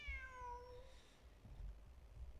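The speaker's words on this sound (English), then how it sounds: "Look! A cat!" A single drawn-out cat meow from Genshin Impact, clear and close at the start, then fading into faint low background rumble with no talk.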